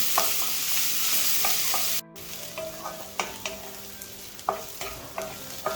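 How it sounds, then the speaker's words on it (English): Onions frying and being stirred on high flame, a continuous sizzle with repeated sharp spatula scrapes and knocks against the pan, close and steady, with a brief cut partway through. "Fry it on high flame."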